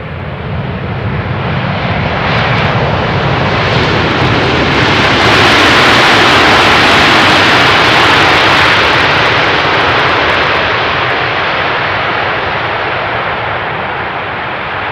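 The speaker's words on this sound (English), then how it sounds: "is the A330 from Delta coming in from Portland" A Delta Airbus A330 jet arriving from Portland on final approach to runway 18R at Amsterdam Schiphol Airport, a loud broad roar that swells to a peak midway and stays dense throughout, with no voices.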